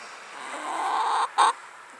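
A single hen, looking at herself in a mirror, gives a soft, drawn-out cluck followed by a short, sharper note, close by in an otherwise quiet space.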